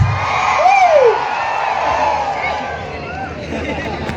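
A crowd at the Chakan Dahi Handi festival in Pune, a loud, continuous roar of cheering and babble with whoops rising above it, while a voice calls out over the din.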